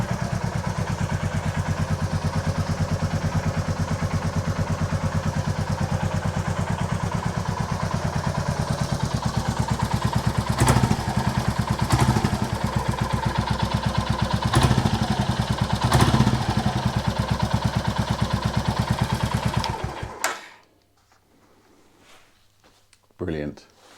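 A Royal Enfield Classic 350 motorcycle engine, recovered after theft and wrecking, runs with a steady close thumping idle and a few rev blips before cutting off abruptly near the end, leaving quiet with a brief hum.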